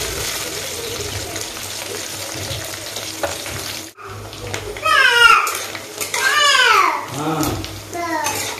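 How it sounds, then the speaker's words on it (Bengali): Paneer sizzles as it fries in a pan, with utensils clinking and scraping against the metal and voices speaking over the cooking. "ভালো করে ভেজে নিতে হবে পনিরটা, যেন খেতে আরও টেস্ট হয়।"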